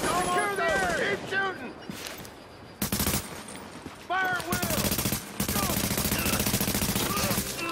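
Automatic and rapid gunfire from The Division on Xbox One comes in loud, dense bursts separated by short pauses, with a voice talking over the shooting.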